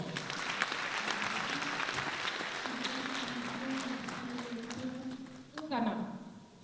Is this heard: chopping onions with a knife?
no